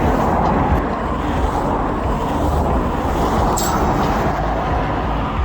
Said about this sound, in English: The whole trailer shakes when some car drives past.